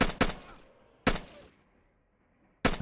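Gunfire in the military video game ARMA: Red Hammer, three sharp rifle bursts of a couple of shots each, spaced apart, loud and close, each trailing off into a fading echo, with no talk.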